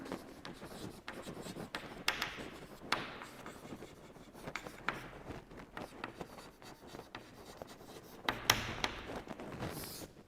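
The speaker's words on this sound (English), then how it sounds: "I will just write the definition." A definition is written on a classroom board, giving faint scratchy strokes and light taps that come in uneven bursts with short pauses between them.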